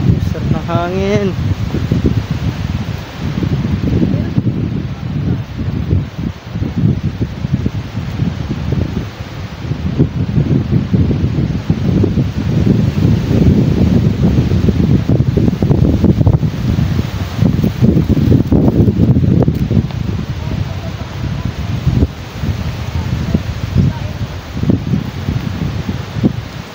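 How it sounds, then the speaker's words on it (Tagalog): Wind blowing through the trees of a forest eco park in Magallanes, Cavite, a steady loud rustling rush that fills the whole stretch with gusts rising and falling. "Sarap ng hangin."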